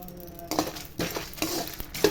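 Whole spices with about five dried red chillies, a piece of cinnamon and five cloves dry-roasting in a pan, giving soft rattles, clinks and light stirring scrapes in three or four bursts, close and fairly quiet with no talk.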